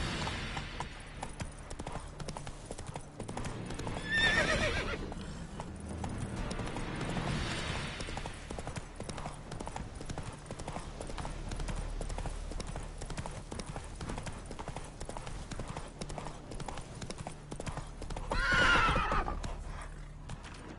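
Geralt's horse Roach in The Witcher 3 trots with continuous rhythmic hoof clops, punctuated by two loud neighs, one early and one near the end, close and prominent throughout.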